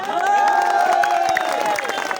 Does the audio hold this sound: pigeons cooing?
no